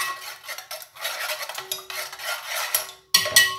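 A spoon stirring chocolate sauce in a pot over medium-high heat on a stove, with steady scraping and rubbing strokes that pause briefly, ending with a couple of sharper clinks against the pot.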